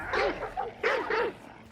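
Dogs in a kennel barking in the video game Hunt: Showdown, four or five quick close barks and yips in two bursts, loud and alone without talk.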